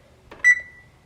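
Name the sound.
kitchen timer beeping while being set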